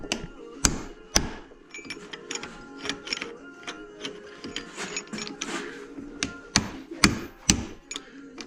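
Sharp metal strikes of a hammer on a chisel, working at a stuck part on an old Yamaha Big Bear 350 ATV, ringing out as irregular loud blows with quieter clinks and scraping between them.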